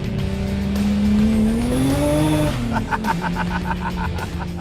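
A loud, high-revving engine of a Honda minivan making over 1,000 horsepower climbs in pitch, then drops into a rapid burbling rhythm as the throttle eases, close and continuous.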